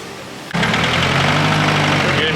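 A truck engine starts and settles into a loud, steady running idle in a scrapyard, with a low throbbing rumble throughout.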